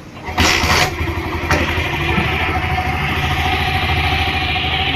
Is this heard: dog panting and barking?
no